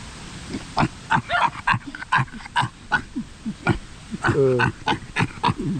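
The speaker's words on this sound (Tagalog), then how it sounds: "Ito po ang native pig." A native pig grunts and snorts in quick, uneven bursts close by, a busy string of short rough calls.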